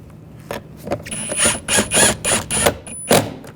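Screws being snugged down on a mirror cover of a 2014-2018 GMC Sierra 1500, a string of short close ratcheting and whirring bursts with brief pauses between them.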